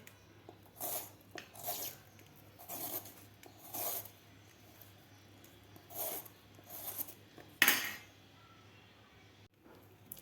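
Skin is peeled from a young, tender bottle gourd in a kitchen, giving a series of short, dry scraping strokes at an uneven pace, close and fairly soft over a quiet steady hum.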